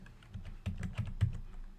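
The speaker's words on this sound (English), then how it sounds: "just enjoy me typing in data" Computer keyboard typing as data is entered, a steady run of light key clicks with a few louder strokes, close and alone with no talk.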